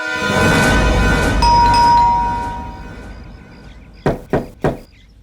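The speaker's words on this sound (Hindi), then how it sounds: "रजत, दरवाजा खोलिए।" Three sharp knocks on a door in a crime drama scene, evenly spaced and loud, following a swell of ringing, chiming music that fades out first.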